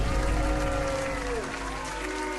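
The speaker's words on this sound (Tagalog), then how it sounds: "Ba't may palakpak?" Applause from a crowd sounds as a continuous wash of clapping, heard together with tonal, musical sounds.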